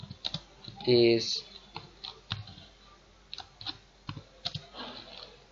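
Light, irregular keystrokes on a computer keyboard, near and fairly quiet, with a short burst of speech and another brief noise near the start.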